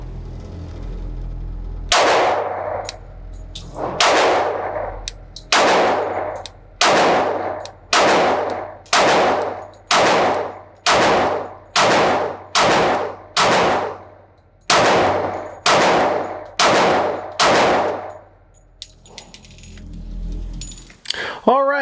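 Loud, near shots from a second-generation Glock 20 10mm Auto pistol fired outdoors at a range, about fifteen sharp reports in a steady, evenly spaced string with brief gaps, standing alone without talk.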